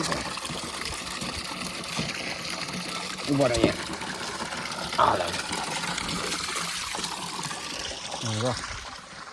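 Water runs steadily with a continuous rushing, splashing wash, as if pouring into a container, while people talk nearby.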